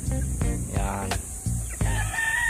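Gamefowl roosters of Kelso and Roundhead lines, including pure white Kelsos, crow repeatedly and overlap one another at close range, with some clucking among them.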